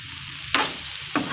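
Cumin powder and spices fry in a pan for soybean curry, a soft hiss punctuated by two sudden bursts of stirring sizzle, close and brief with no speech.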